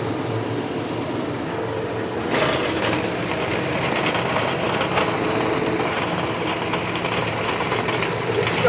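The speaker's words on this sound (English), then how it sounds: "This is a professional tiller," A TYM T574 tractor running a tiller, a steady, loud engine drone with a rough mechanical rattle, rising slightly in intensity partway through and running continuously.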